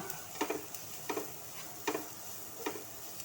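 A spoon stirs grated carrot into bun dosa batter, four soft, evenly spaced scraping taps against the bowl, close and quiet.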